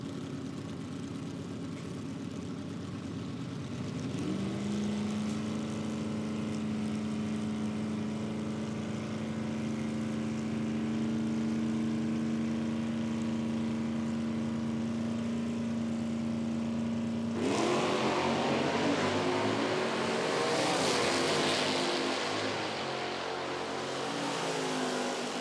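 Drag racing engines in an IHRA Pro Am event at Dinwiddie, an E-stock automatic and a Camaro F-stock automatic, idle with steady droning harmonics, then erupt into a loud, broadband roar as the cars launch near the end.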